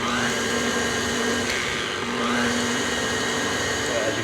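An electric mixer running through pumpkin oatmeal chocolate chip cookie dough makes a continuous, loud motor whine that holds steady throughout, with a voice speaking over it.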